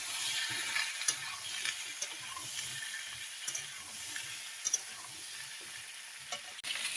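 Potato and papaya pieces fry in oil left over from frying fish, giving a steady close sizzle broken by stirring scrapes and occasional clatter, with no talking.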